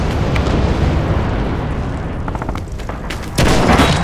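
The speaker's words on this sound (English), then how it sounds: "Just waiting for this artillery to finish to move into B" An artillery barrage in the World War II shooter Red Orchestra 2 rumbles as a loud, continuous roar of booming explosions, with a heavier, sharper blast cluster landing near the end.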